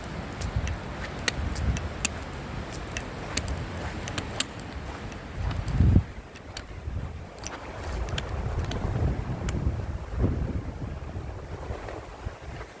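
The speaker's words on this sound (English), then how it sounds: "it's still windy" Steady wind rushing and buffeting the microphone in -12°C winter weather, with a gusty low roar and faint water sounds in the background, no voices.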